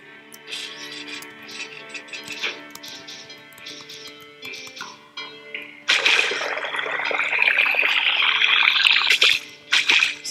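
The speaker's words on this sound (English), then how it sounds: "Sounds like you're sipping in water." Water trickling and dripping in the SteamWorld Dig video game, scattered drips and tones at first, then a sudden, steady running-water stream that grows brighter and continues over game music, with no talking.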